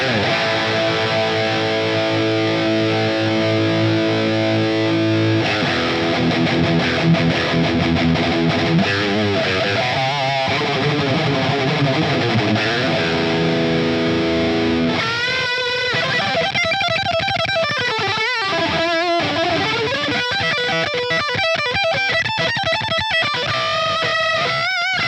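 Electric guitar lead tone through a Line 6 POD Express, played alone with no talk: sustained distorted notes and chords early, then fast, expressive lead runs with bends and vibrato in the later half, loud and close.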